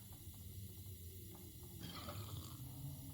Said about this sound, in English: I'll just drink some broth.